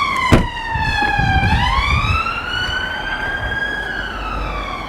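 An ambulance siren wails loudly, sweeping down and back up in pitch, with a sharp thump early on and traffic rumble underneath.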